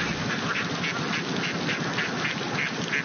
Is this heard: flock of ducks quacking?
yes